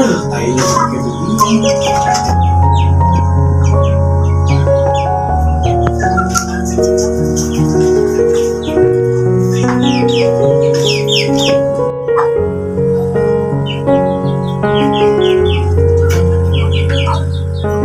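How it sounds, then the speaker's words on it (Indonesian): Chickens cluck and call continuously inside a former bedroom converted into a chicken coop, a busy close-up chorus of overlapping clucks, chirps and squawks with no talking. "sekarang menjadi kandang ayam"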